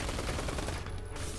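Assault rifle fire in the top-down shooter game Neon Chrome, a dense continuous rattle of rapid shots that fills the whole short moment at steady loudness.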